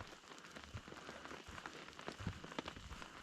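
Rain falls steadily at a lakeside campsite on Lower Saranac Lake in the Adirondacks during late spring, making a faint, continuous patter with scattered soft drops and no voices.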